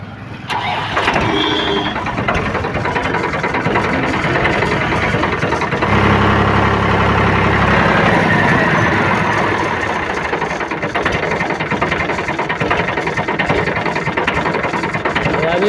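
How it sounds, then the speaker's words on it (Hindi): A tractor engine with a noisy fan belt rumbles steadily at low revs, a continuous chugging drone with a faint mechanical rattle, close and fairly loud throughout. "तो अभी हम ट्रैक्टर को स्टार्ट ही कर लेते हैं, और आवाज़ का इसको सुनिएगा"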